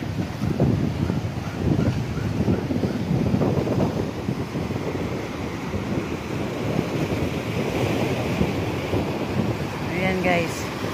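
Rough surf churns and crashes steadily, with heavy wind buffeting the microphone throughout.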